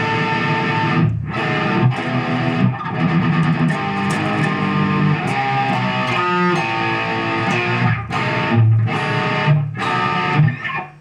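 A Jackson electric guitar with a Floyd Rose tremolo plays heavy distorted chords and riffs, loud and dense with brief gaps between phrases, continuing for about eleven seconds without speech.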